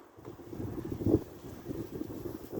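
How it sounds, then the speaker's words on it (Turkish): Wind rumbles and buffets against the microphone beside a weak beehive in low gusts, with one stronger gust midway and no voices. "Biraz rüzgar çıktı."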